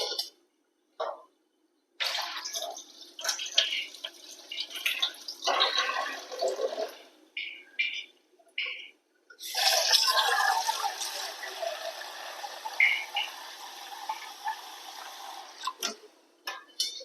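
Soya beans being washed by hand in a bowl of water, with close, intermittent bursts of splashing and sloshing separated by short pauses, as for squeezing out the water.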